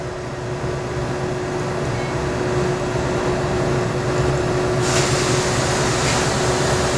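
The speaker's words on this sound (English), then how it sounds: "you'll hear the chamber filling with nitrogen" A scanning electron microscope's vacuum chamber fills with nitrogen gas from a cylinder, a steady hissing rush over a constant hum that brightens after about five seconds.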